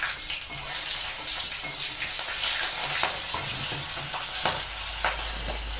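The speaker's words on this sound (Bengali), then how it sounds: "দুটো কাঁচা লঙ্কা দিয়ে দিলাম তেলের উপরে।" Two green chillies sizzle and spit in hot oil, a dense, loud frying hiss with scattered pops and crackles that lasts throughout, with no voices.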